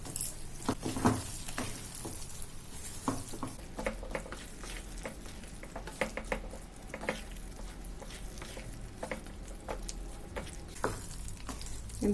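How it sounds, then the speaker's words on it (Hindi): Urad dal vegetable khichdi is fried and stirred with spices over a long stretch, with a constant soft sizzle under frequent clicking spoon scrapes against the pan, close by and with no talking. "खिचड़ी को सारे मसालों के साथ अच्छे से मिक्स कर दीजिए।"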